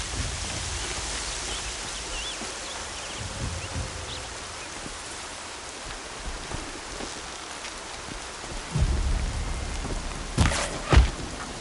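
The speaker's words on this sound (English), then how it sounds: "Rain's not so bad." Steady rain hisses across surfaces in the Horizon Zero Dawn game world, with deep thunder rumbling in heavier swells toward the end.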